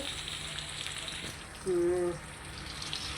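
Fennel and fenugreek seeds fry in hot oil with a steady, soft sizzle, broken partway through by a brief, brighter tonal sound.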